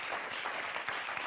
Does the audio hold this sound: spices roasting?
no